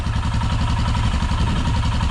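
A Royal Enfield Himalayan motorcycle fitted with a Red Rooster exhaust idles steadily nearby, its single-cylinder thump pulsing in an even, loud rhythm with no voices.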